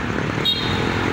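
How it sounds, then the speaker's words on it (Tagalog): Loud motorcycle traffic on a road in Zamboanga City, a continuous close engine drone and roadway rumble with a brief higher whine passing through. "Ang ingay ng mga motor"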